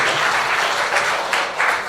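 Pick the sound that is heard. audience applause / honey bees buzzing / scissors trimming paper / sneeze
audience applause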